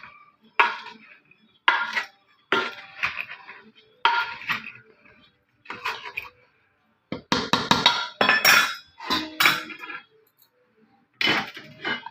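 Mango pickle spices, jaggery and oil are mixed in a pot with a utensil, producing a series of irregular close scraping and clinking strokes separated by brief pauses.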